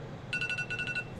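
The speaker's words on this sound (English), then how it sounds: "Oh, that's my alarm." An alarm goes off with a short run of rapid high electronic beeps, pulsing in quick even bursts for under a second, moderately loud.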